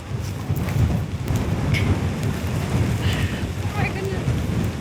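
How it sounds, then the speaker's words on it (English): Heavy wind in heavy rain buffeting the microphone in a constant low roar, with gusts rising and falling throughout and faint higher hiss above. "The wind's getting stronger."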